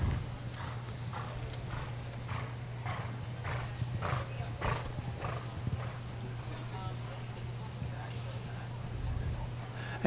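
Hooves of a thoroughbred clip-clop rhythmically across a show jumping course, with a whinny partway through, set against a steady arena hum while a commentator talks over it.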